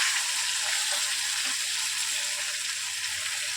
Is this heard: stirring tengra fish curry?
yes